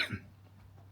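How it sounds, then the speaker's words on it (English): One short, soft cough from a man at the very start, followed by quiet room noise. "Excuse my cough."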